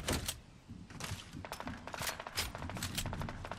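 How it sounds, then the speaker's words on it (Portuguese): Bursts of rapid video-game gunfire in Fortnite crack again and again in quick volleys, sharp and fairly close, with a few duller thuds mixed in. "Muito tiro demorado aqui, hein, cara."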